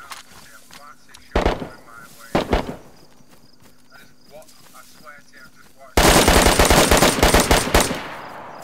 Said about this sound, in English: I'm watching bullets actually fly past me